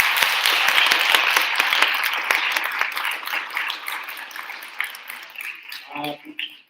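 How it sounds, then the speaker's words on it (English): Loud, dense audience applause for poetry recitation performers and judges that gradually thins and fades out, ending with a brief bit of voice. "Let's give a big round of applause for all of our performers and our judges."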